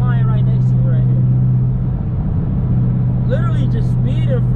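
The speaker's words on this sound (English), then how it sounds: "It's the truck that's flying right next to me right here." A truck speeds alongside a Camaro ZL1 on the highway, a loud continuous drone of engine and road roar heard from inside the car, while someone talks over it.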